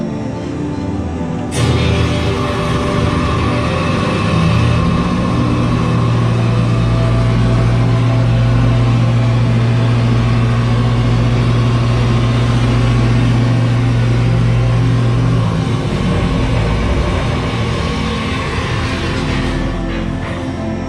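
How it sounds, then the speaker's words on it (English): A diesel generator engine runs steadily during a test, droning with a constant low hum that eases off near the end, loud and close with no speech. "Proceed to the generator control panel and turn the knob over the flashing red light to test the generator."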